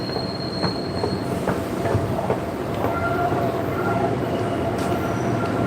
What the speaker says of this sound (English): Let me get on the train.